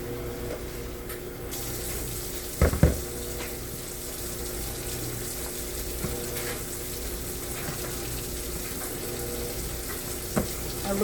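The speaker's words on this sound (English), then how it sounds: "I'm gonna add some more water." Water running from a kitchen tap as it is added to bread dough during Thanksgiving cooking, a steady soft rushing flow throughout with a couple of brief clatters near the start.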